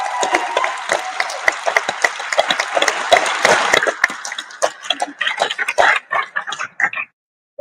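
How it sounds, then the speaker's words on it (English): A hall audience at a medieval arts and sciences competition claps after the final presentations, a full burst of applause that thins and fades out to near silence at the end. "So let's give one more round of applause."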